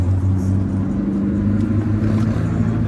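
Line of cars rolling past at a big car show, a continuous low engine rumble and whir, moderately close and steady, with no voices.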